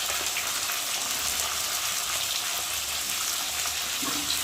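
Ginger paste, cumin paste, tomato and salt fry in a hot pan for a fish curry, giving a steady, dense sizzle that crackles evenly throughout, close and fairly loud, with no talking.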